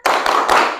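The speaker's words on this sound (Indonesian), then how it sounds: "kita tepuk semangat terlebih dahulu ya" A classroom of children does a quick group clap, a short burst of about three near, sharp claps in quick rhythm.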